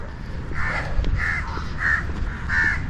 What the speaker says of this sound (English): the sounds of the birds and the trees